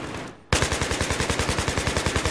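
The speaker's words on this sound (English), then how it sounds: "Look at you glisten through the wall, me shooting you in the legs." Rapid automatic gunfire in the video game Battlefield 3 in close-quarters combat, a loud, steady burst of evenly spaced shots following a brief quieter moment.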